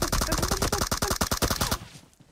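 Rapid automatic gunfire in the video game PUBG Mobile, a loud close burst of about fifteen evenly spaced shots lasting under two seconds before cutting off into a short fading tail.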